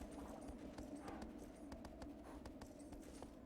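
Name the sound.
horse hooves clip-clopping in the video game Shadow of the Colossus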